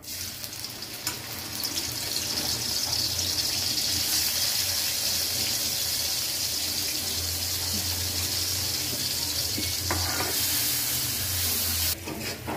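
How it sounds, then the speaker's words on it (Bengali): Garlic fries in a little oil while making a dried fish and mixed vegetable dish with bottle gourd shoots, a continuous hissing sizzle held close and steady, with no voices. "রসুনটা লাল করে ভাজা হয়ে গেছে"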